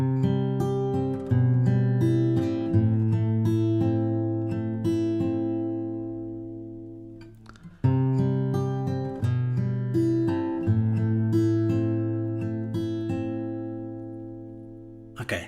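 Fingerstyle acoustic guitar plays the chord progression of a song, with plucked chords and bass notes ringing out in two matching passes, close and clear, without talk.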